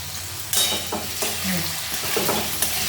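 Long-cut potato pieces fry in a pan with a steady sizzle, broken by several scraping stirs of a spatula.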